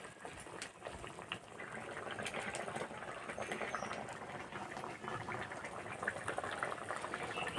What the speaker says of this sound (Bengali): ঝোল ফুটে গেছে, এবার ভেজে রাখা মাছ দিয়ে দেবো।